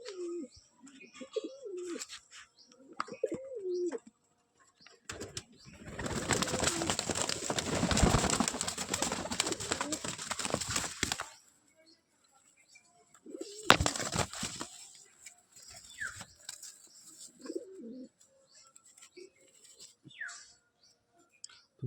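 Lotan pigeons give soft, close, repeated coos, broken in the middle by a long, loud burst of flapping wings and a second shorter flurry before the cooing resumes.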